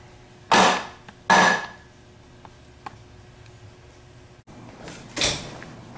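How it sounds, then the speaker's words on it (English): Three heavy hammer blows on a 2x4 resting on an alternator shaft ring out, two in quick succession and a third after a pause, in an otherwise quiet space. "Rest a 2x4 on top of the shaft and the nut and pound it out with a hammer."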